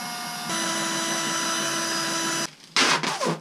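A steady mechanical whir runs for a couple of seconds, then stops, followed by a few short bursts of harsher drilling noise.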